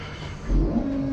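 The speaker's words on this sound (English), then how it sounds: "You'll be able to hear the hydraulic pump." The hydraulic pump of an RB50 videowall trailer hums up into a steady mid-pitched drone, coming on partway through and running close and continuously.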